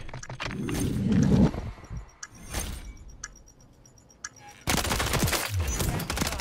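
Video game mini-gun firing in Search & Destroy, rapid close bursts of automatic fire at the start, then a quieter stretch with scattered shots, ending in a dense loud sustained burst.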